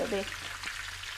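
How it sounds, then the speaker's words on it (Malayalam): Chicken pieces fry in hot oil while being turned over. A short burst of frying sizzle is heard, with a brief low voice-like murmur at the start. "നമ്മുടെ ചിക്കൻ ഫ്രൈ നന്നായിട്ട് മൂത്ത് വരുന്നുണ്ട്"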